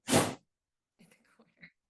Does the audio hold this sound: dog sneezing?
yes